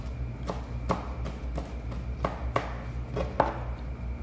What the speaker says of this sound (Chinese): 香菜切碎